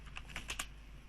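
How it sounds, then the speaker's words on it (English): A few quick computer keyboard keystrokes as someone types a short command on a machine running a network check, over a steady low hum, crisp and close with no talking. "I'm just typing ipconfig."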